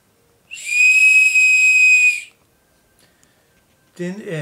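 A single shrill toy whistle blows one steady, piercing note for under two seconds, then a brief bit of speech follows after a pause.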